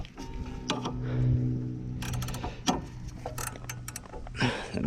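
A ratcheting wrench working a 14 mm bolt on a Miata differential, quick close clicking bursts with metallic clinks and pauses between strokes.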